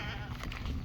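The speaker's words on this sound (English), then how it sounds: "Here's the goats." Nanny goats bleating close by, a continuous nasal bleat with low rumbling farmyard noise underneath.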